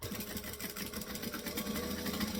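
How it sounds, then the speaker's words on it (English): A sewing machine stitches and back-stitches fabric in a rapid, even mechanical chatter of needle strokes, close and steady for the whole stretch with no talk. "So we're going to stitch and back stitch."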